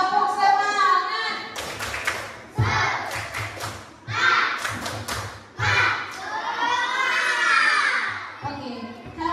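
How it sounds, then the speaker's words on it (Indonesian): Children in a classroom perform the tepuk semangat clapping chant: rhythmic bursts of hand claps under loud, close, sung-shouted voices chanting together. "Sekarang tepuk semangat dulu. Tepuk semangat."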